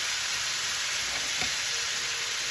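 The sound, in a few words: chicken and vegetables sizzling in a wok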